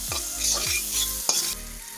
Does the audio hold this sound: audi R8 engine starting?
no